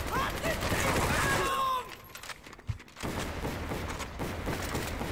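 Anti-aircraft gunfire in Medal of Honor: Vanguard, a dense loud burst of rapid shots that breaks off, then a single sharp blast and a lower rumble of continued firing and battle noise.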